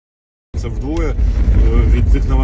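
A car engine runs steadily from start-up onward, a low rumbling drone with road noise on a military-use vehicle in Ukraine, loud and close, with a voice talking over it.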